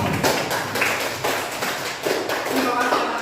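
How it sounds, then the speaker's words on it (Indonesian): A classroom of pupils claps together in a burst of brisk, fairly close hand claps that continue steadily for a few seconds, with some voices mixed in beneath the clapping. "Tepuk tangan untuk kita semua."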